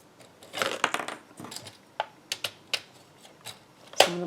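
A paper trimmer slices a laminated sheet for a traveler's notebook, giving soft scraping strokes followed by sharp, separate clicks and a louder snap near the end, close and quiet with no voices.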